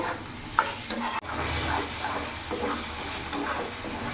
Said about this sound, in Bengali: এবার ভালো করে নাড়াচাড়া করে কিছুক্ষণ ধরে কষিয়ে নেব।